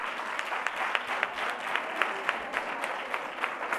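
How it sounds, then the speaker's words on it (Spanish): Audience at a Nativity scene contest awards gala in a cultural hall claps steadily and evenly throughout, a warm sustained round of applause with no voices on top. "con este fuerte aplauso despedimos la gala de Belenes"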